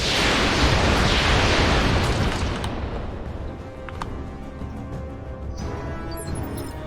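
A vehicle explodes in the RogueTech battle game with a loud, rumbling blast that swells at once and then decays slowly into a lingering crackling tail.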